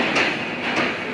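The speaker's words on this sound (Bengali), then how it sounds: "আন্তনগর রূপসা এক্সপ্রেস ট্রেনটি আমাদেরকে বিদায় জানাচ্ছে" The Rupsha Express pulls out of Natore station with a brief, dense rolling rumble and faint rhythmic wheel clatter, heard close and loud.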